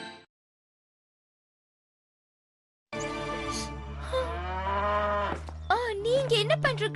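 Cartoon cattle moo in a cowshed after a brief silence, with several drawn-out lowing calls close by and sustained, followed by shorter calls.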